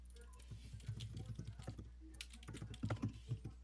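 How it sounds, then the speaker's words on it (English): Computer keyboard typing with irregular bursts of clicks and clacks, moderately close, mixed with some background voice-like sounds and a steady low hum. "I hear you typing, Griffin."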